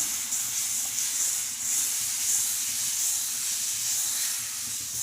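Dosa batter sizzles on a hot stone griddle, a long-unused cast stone brought back into service: a steady, loud, even hiss fills the whole stretch with no breaks and no talking.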